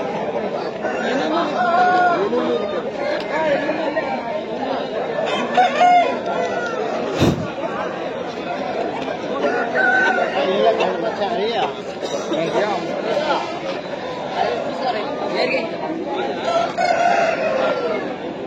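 Several roosters crow again and again over clucking hens and the steady hubbub of buyers and sellers at the Pileru Sunday pet market, with one sharp knock partway through and people talking throughout.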